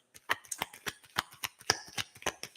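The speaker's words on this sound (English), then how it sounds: "We have shuffled these cards long enough." Tarot cards are shuffled close up in quick, uneven bursts of papery flicks and riffles, with no talk.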